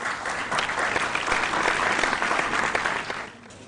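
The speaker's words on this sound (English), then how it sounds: "Round of applause." Steady applause from a crowd at a high school quiz competition, clapping loudly for a few seconds before quickly fading out.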